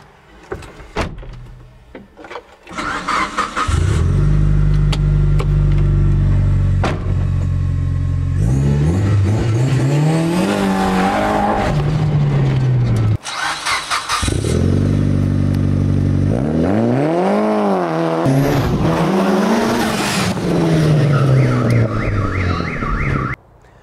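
A swapped Mitsubishi Eclipse carrying an Evolution engine is driven hard, its engine revving loudly through repeated rising gear pulls with shifts between them, heard close from inside the car.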